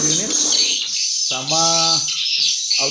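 A swiftlet lure call plays loud and close through a pair of Audax 65 tweeters, rapid high chirping with bursts of harmonic tweets over a constant shrill tone, with a voice faintly underneath.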